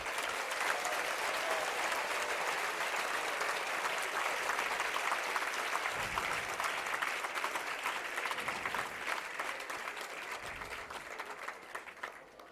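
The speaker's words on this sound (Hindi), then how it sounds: "आप लोगों ने तालियां भी बजा दी।" A large audience at a Jain religious discourse ceremony applauds continuously, a dense, steady wash of clapping that holds strong throughout and tapers only slightly toward the end.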